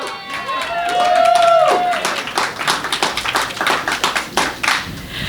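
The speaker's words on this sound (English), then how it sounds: "Let's just give a round of applause for ourselves for being here." A crowd at a Covert Action Magazine holiday party applauds itself: after a brief whistled tone, a sustained patter of many hands clapping fills the room at moderate loudness.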